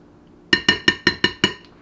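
A utensil stirring a beef meatloaf mixture clinks sharply against the bowl six times in a quick, even rhythm, close and bright, with no talking.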